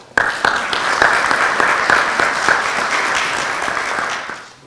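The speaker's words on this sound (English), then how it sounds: "even though we just clapped for Aaron, let's one more round of applause" Audience applause at a Kiwanis town hall for school board candidates, a steady wash of many hands clapping that starts abruptly, holds for about four seconds and fades out at the end.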